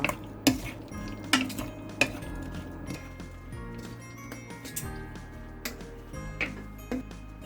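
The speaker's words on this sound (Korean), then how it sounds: "설탕, 간장, 맛술, 포도씨유 이렇게 넣어서 연근에 색이 골고루 배게 섞어 주세요." Lotus roots being mixed with sugar, soy sauce, mirin and grapeseed oil in a pot, giving a few sharp utensil clinks against cookware amid quiet stirring and scraping, with no talk.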